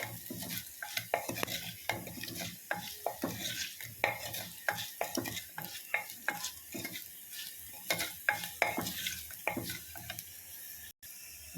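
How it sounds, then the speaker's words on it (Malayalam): Turmeric and chili powder sautéing in a pan for moru kachiyathu, heard as quick rhythmic scraping strokes of a spoon against the pan over a faint sizzle, close and steady. "1/4 ടീസ്പൂൺ മഞ്ഞൾപ്പൊടി, ഒരു 1/4 ടീസ്പൂൺ മുളക് പൊടി ഒന്ന് ചേർത്തിട്ട് ഒന്ന് വഴറ്റാം."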